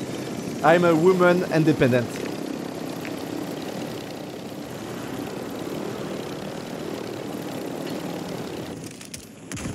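A helicopter engine in a video game drones steadily in the background with a low rotor hum, while a voice speaks briefly near the start.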